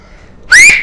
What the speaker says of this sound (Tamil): எல்லாருமே வந்துட்டு எதிர்பார்த்துட்டு இருக்க ஒரே ஒரு விஷயம் தான், அந்த விசில்